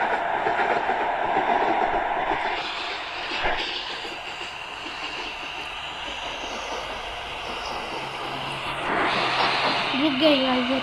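A train in a 3D Indian railway game rumbles steadily with clickety-clack rolling noise, a brief horn-like tone near the end, while someone talks over it.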